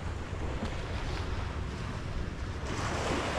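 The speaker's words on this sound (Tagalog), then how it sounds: "Kahapon kaganda ng ano eh, kalmado na, walang alon, ngayon nagka-alon eh." Sea waves washing steadily near a moored outrigger boat, a continuous rough surf roar mixed with wind buffeting the microphone, with no voices.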